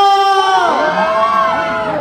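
Crowd at a town fiesta concert in Mendez shouting together, a loud sustained wave of many voices with rising and falling pitch, held for about two seconds.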